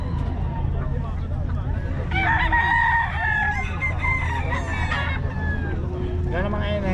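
Chickens clucking and a rooster crowing at a busy poultry sale, a steady loud mix of fowl calls over a low crowd rumble, with people talking throughout.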